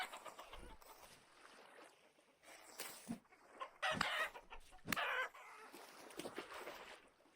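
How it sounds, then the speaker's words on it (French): Chicken clucks in the Vintage Story video game, a few brief bursts scattered over a quiet background with no talk. "je pensais pas que j'allais réellement me faire attaquer par une poule"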